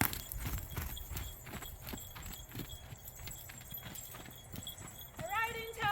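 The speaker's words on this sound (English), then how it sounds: "Posting is my favorite way to ride the trot." An Arabian horse trots under a rider who is posting, its hooves clip-clopping in a steady, even rhythm close by. A brief high vocal sound rises near the end.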